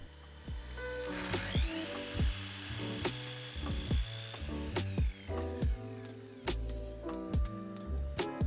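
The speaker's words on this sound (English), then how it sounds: "now over to the miter saw to make some cuts" Wood being cut on a miter saw in a workshop, with repeated short bursts of cutting and mechanical knocks in a steady rhythm, close and fairly loud.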